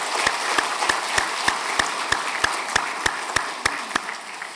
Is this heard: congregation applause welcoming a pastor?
yes